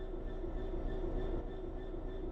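Train slowing to a stop in Train Sim World 3, a steady low rumble of wheels and motor with a sustained mid-pitched whine, continuous and fairly quiet throughout.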